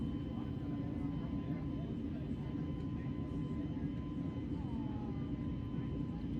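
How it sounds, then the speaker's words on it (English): Steady, dense engine roar from an airliner taking off in Microsoft Flight Simulator, flying from Amsterdam to Cardiff, holding a constant level throughout with a faint tonal whine on top. "so a smooth takeoff"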